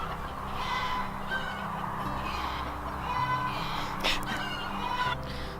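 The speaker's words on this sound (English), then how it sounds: "the chickens are having a party over there." Chickens on a Northeast homestead clucking and calling from some distance, a busy chorus of short bird calls over a steady outdoor background, with faint voices mixed in.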